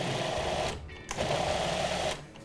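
A food processor pulses a batch of oatmeal creme pie dough made with vanilla, molasses, dry ingredients and cocoa, giving two loud, steady whirring bursts separated by a short pause.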